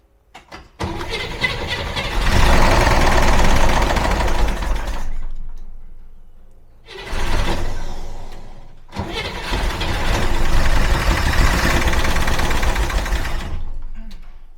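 An old Corvan's engine cranking after fuel is poured into its two carburetors: three long, loud bursts of rapid starter churning, separated by brief silences, with the engine failing to catch.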